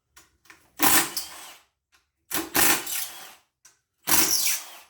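Power tool spinning out transmission case bolts on a Honda D17 car with an EM2 gearbox, three loud, close bursts of whirring and rattling with short quiet gaps between them.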